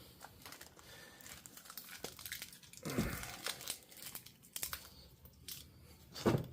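Adhesive tape torn and pressed onto foam while building an Amtgard foam bat, a close crinkling and crackling with a sharper tearing rip near the middle and another at the end, no talking.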